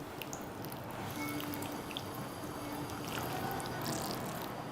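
Leftover stuffing sauce mixed with water and spices being poured into a pot full of stuffed vegetables and tomatoes, a soft continuous trickle and splash with faint dripping throughout.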